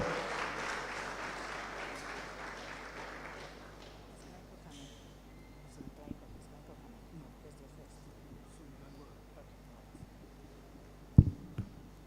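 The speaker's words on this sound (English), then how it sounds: "Please give them a round of applause as they come forward." Audience applause at a business competition grand finale in Ghana, as finalist teams walk up beside the stage, a broad clapping wash strongest at the start that fades over several seconds, leaving quieter room noise with scattered knocks.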